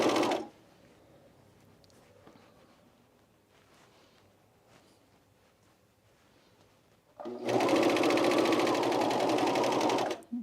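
A sewing machine stitches self binding onto the top edge of a camisole, starting with a brief burst, then a long quiet pause with light handling, then a loud steady run of stitching for about three seconds near the end.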